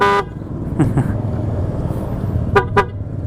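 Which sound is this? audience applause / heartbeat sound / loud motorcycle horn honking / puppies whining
loud motorcycle horn honking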